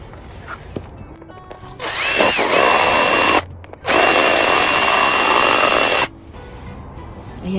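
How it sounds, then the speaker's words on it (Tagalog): Power drill enlarging a hole in a ceramic teapot used as a succulent pot, whining loudly in two long bursts with a short pause between them, heard close up with no talk. "So, susubukan ko siyang sundan ng drill."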